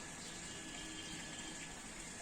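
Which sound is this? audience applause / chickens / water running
water running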